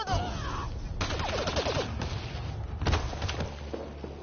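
Gunfire in a PS4 combat video game, rapid bursts of shots and rattling automatic fire with thuds, fairly loud and dense through the scene.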